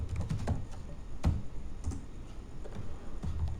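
Someone types an SQL delete command on a computer keyboard, a steady run of soft close key clicks with occasional heavier strokes, alone with no speech.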